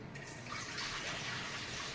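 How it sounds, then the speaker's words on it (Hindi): Water is poured into a clay pot to cook dal in a village kitchen, giving a steady gushing, splashing flow that stays close and fairly quiet for the whole two seconds. "तब हम इसमें पानी डालेंगे"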